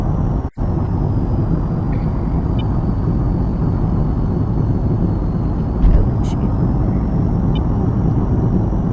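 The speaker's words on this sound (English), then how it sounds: "now what you want to do is you want to go full throttle, but not into afterburner" A fighter jet's engine at full throttle without afterburner in the VTOL VR flight game, a steady loud roar with a brief dip near the start and a slight swell later.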